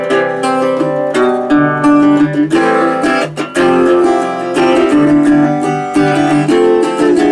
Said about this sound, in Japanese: コードで弾くと、